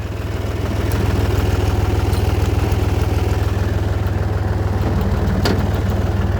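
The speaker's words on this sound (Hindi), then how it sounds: "अभी मैं ट्रैक्टर पे बैठूंगा और मैं चलाता जाऊंगा" A tractor engine running steadily while pulling a trolley across a farm field, a loud, even low throb with a rapid pulsing beat, continuous and close with no voices.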